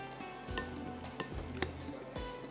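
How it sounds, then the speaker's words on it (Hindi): Boiled potatoes are stirred into a yogurt raita with aubergine. A few soft, wet clacks of a spoon against the bowl come at irregular intervals, close by and quiet, and nobody speaks. "ये इसमें डालते हैं। इसको मिक्स कर लीजिएगा अच्छी तरह"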